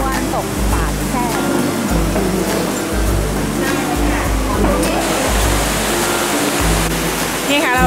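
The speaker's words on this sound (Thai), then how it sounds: "เราเดินลงมาที่น้ำตกข้างล่างนี้นะคะ" Tad Sae waterfall near Luang Prabang, Laos, roars in a loud, continuous rush of falling water close by, with voices talking faintly underneath.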